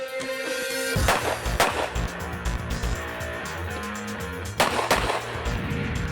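Pistol gunshots from a .45 at an IDPA shooting competition stage, with two loud sharp reports standing out among several quicker pops and the clatter of movement and reloading.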